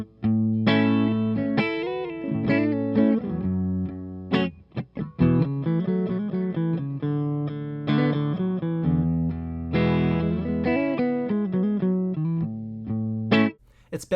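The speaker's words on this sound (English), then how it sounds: "add hammer-ons and pull-offs to our open chords and bar chords like this" Distorted electric guitar strums chords, with quick hammered and pulled notes ringing between them; steady, loud, with brief pauses.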